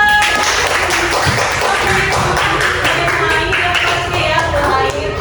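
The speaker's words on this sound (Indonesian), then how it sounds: "Sekali lagi boleh kita kasih tepuk tangan yang meriah buat kamu berdua" Trainee teachers in a classroom applaud two presenters, a loud, continuous patter of clapping and tapping that fills the room throughout, mixed with other room noise and possible background voices.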